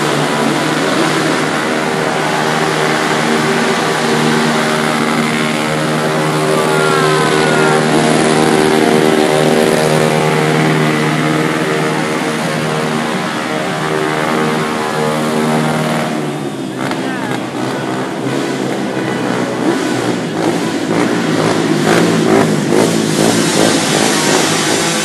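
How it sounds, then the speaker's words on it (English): Two motorcycles doing donuts in a parking lot at a wedding, engines droning and revving loudly and continuously with a rising, surging tone throughout. "There were two motorcycles that did donuts in the parking lot."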